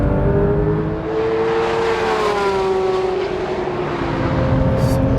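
A Porsche GT3 RS driven fast on a racetrack straight at about 250, its engine note loud and steady, with a high tone rising and shifting as it accelerates. No one speaks.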